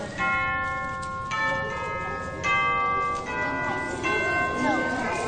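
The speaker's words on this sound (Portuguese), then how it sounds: "Tá aí, são os sinos tubulares." Tubular bells struck one after another, each ringing strike sustaining and overlapping the next in a bright, resonant metallic chime, clear and close with light background noise.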